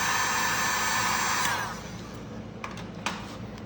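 A heat gun warming vinyl wrap on a Jeep Cherokee door handle blows with a loud, steady whine and rush of air, then cuts off and leaves a quieter hiss with a couple of soft taps.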